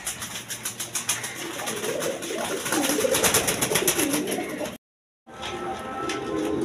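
Lotan pigeons coo in soft, repeated pulses close by, the low throaty calls rising and overlapping before a sudden brief break, then resuming.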